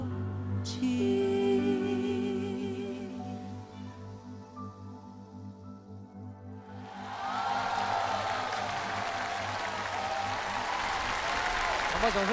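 After a sung duet fades out with lingering music, a large studio audience bursts into loud, continuous applause that carries to the end.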